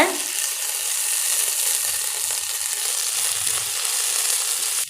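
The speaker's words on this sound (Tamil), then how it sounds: "நாம் இஞ்சி பூண்டு விழுது சேர்த்துடலாம் கூடவே நாம் பச்சை மிளகாய் சேர்த்துலாங்க எல்லாத்தையும் நல்லா வதக்கிக்கோங்க" Ginger garlic paste and green chillies sauté in a pan for a green peas kurma, giving a steady, close hiss of frying with faint scraping of stirring throughout.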